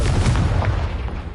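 Confringo blasting spell in the video game Hogwarts Legacy, set off with a deep rumbling explosion that stays loud and booming throughout, with several muffled thuds layered in.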